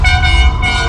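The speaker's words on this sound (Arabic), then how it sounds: "وحتى صوت الكلاكس المميز بتاعها." A Ferrari California's horn sounds in one loud, sustained, harmonically rich honk lasting just under a second, close and alone.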